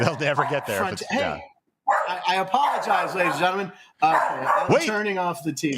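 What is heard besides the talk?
dog barking at animal on TV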